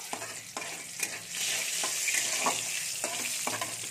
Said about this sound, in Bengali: একটু ভাজতে দেবো।